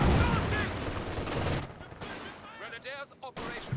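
Machine gun and rifle fire in Company of Heroes 2 roll on as a dense, loud barrage, then thin to scattered bursts and single shots with brief pauses.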